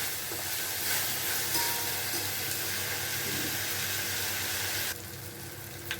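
Tomato frying in a pan while macaroni pasta is being cooked, a soft continuous sizzle and hiss with faint stirring clicks, dropping a little quieter near the end.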